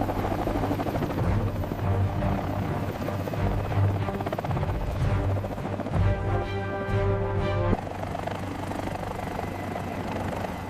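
A helicopter's rotor and turbine keep up a loud, continuous droning whir with a steady low throb, the pitch shifting slightly near the end, with no voices over it.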